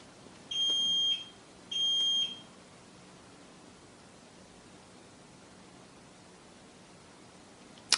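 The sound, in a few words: security alarm system beeping as it is set via keypad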